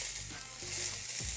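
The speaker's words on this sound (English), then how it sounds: "A little bit of olive oil in the pan. As you can tell, it's very hot." Onions hiss and crackle in very hot olive oil in a pan, a close, steady sizzle with no one talking.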